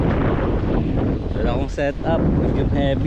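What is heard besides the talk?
strong wind while fishing outdoors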